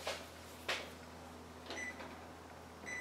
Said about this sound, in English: So we're going to turn the oven on,